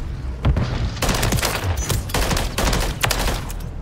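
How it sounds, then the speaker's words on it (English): Rapid bursts of gunfire from a Holger 556 rifle with a burst-fire mod in Modern Warfare 3, loud and close, repeating in quick clusters throughout with other shots mixed in. "This burst fire mod on this is unbelievable."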